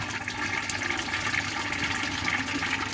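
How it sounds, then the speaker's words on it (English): Water pours steadily into a farm water filter tank, a continuous rushing, gurgling flow at moderate loudness with no pauses and no voices. "Make sure that all the water comes in."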